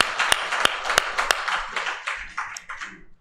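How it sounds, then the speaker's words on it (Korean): A church congregation claps in praise, a few sharp prominent claps standing out over a brief burst of group applause that tapers off within about three seconds. "우리 하나님께 영광과 감사의 박수를 올려드립니다."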